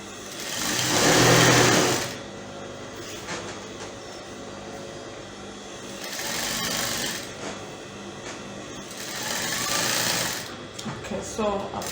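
A sewing machine runs in steady bursts while stitching around the neckline of a fully lined gown, its motor whirring loud and close with pauses between runs and speech in between.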